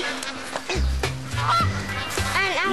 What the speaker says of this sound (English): these geese are one of the prettiest sights in the world